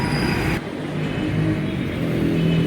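Traffic from a busy main road beside a car lot in Pakistan, a passing car's engine whirring and revving nearby in a steady, loud wash with no talk over it.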